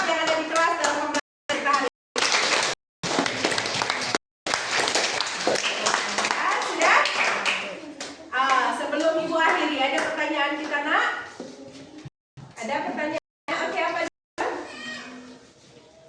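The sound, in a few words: classroom applause for a student group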